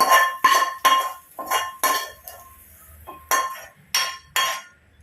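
A spoon or spatula clinks against a metal pan and bowl as egg fried rice is scooped across, about ten sharp, close scraping knocks in an uneven rhythm with quiet gaps between.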